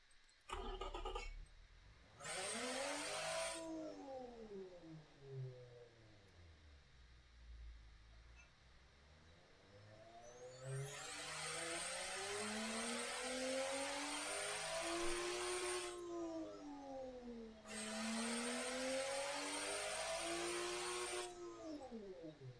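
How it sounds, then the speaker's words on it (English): A Jeep Wagoneer rival's turbocharged engine in the game Automation revs up and down repeatedly, pitch sweeping high then dropping, with steady droning between revs and no talking. "I'll let you hear the engine."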